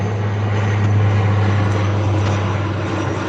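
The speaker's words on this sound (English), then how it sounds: "Oh, we got a plane overhead." Airplane flying overhead near a sailboat, a continuous loud engine drone with a strong low hum holding steady from start to finish.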